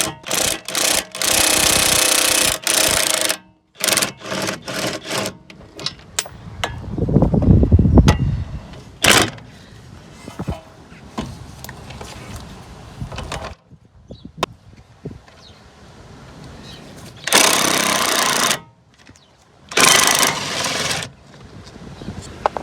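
Impact gun working bolts loose on a Rover 416 GTi during CV boot replacement, heard as several short loud bursts of rapid hammering separated by pauses, close by.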